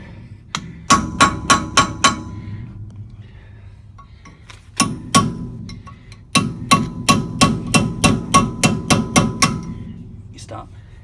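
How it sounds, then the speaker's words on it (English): Hammer tapping out the axle sleeves on a big truck during a disc brake and axle removal job: sharp metallic strikes in two quick bursts, first about five hits, then a long evenly spaced run of a dozen or so, close and loud. "You could just gently tap them out."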